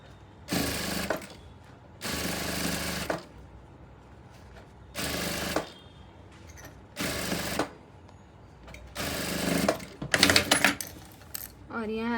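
A sewing machine stitches a tube blouse in several separate bursts of rapid mechanical whirring lasting a second or so each, with quiet handling in between and a short voice near the end.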